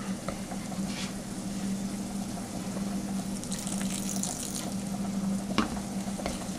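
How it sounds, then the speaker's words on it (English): Water is added and self-rising flour dough is stirred by hand for dumplings: a soft, continuous wet mixing and sloshing, fairly quiet, with a steady low hum and a couple of sharper knocks near the end. "So we're going to add a little bit more water."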